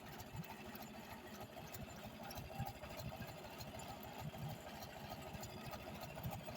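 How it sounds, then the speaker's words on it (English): A Ford Model A engine with a brand-new carburetor idles slow and smooth, a faint, steady, even mechanical patter running continuously with no talk over it. "Look how slow that idles, how smooth it idles."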